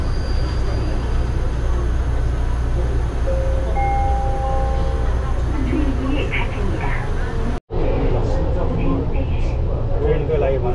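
A driverless train runs along an elevated track in South Korea, with a steady loud rumble and hum from inside the carriage that drops out briefly once, while people talk over the continuous noise.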